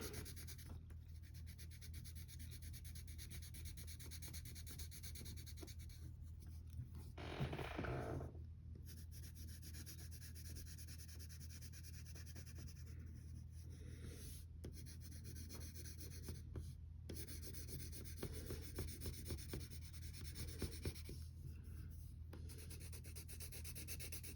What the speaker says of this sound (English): I'm using the side of my pencil.